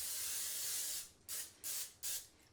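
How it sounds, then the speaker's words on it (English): Cooking spray hisses onto a baking pan in one long spray followed by three short, sharp bursts, close and alone. "So I always like to spray the pan just for easy cleanup."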